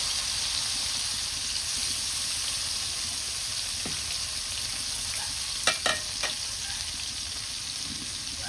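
Koi fish frying in oil in a home kitchen, giving a steady, dense crackling sizzle throughout, with a few brief louder pops and clinks near the end; no talking.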